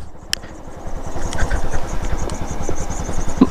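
A motorcycle engine cranks and fires into a rapid, pulsing putter. The putter runs unevenly for a few seconds, then cuts out near the end, close and fairly loud with no voices over it.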